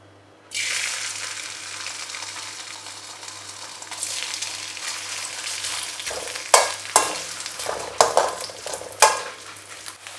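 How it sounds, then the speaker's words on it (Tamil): Small pieces of elephant foot yam hit hot oil in a kadai and sizzle steadily up close, with a spoon stirring and scraping at intervals through the second half. "கடாயில் வறுக்கிற அளவுக்கு எண்ணெய் சேர்த்துக்கிறேன்."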